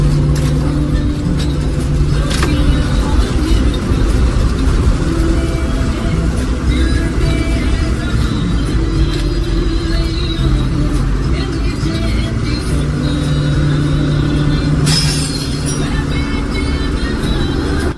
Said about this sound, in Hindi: इस बस को चला रहे हैं